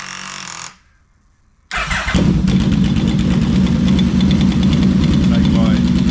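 A four-cylinder Yamaha Vmax motorcycle is started after a moment of silence; the engine catches quickly and settles into a steady, close, fairly loud idle.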